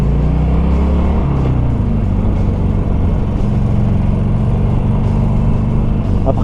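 A Harley-Davidson 1200 Custom motorcycle rumbles steadily while riding, a loud, continuous low engine drone mixed with wind noise.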